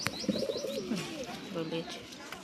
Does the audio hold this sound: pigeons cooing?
yes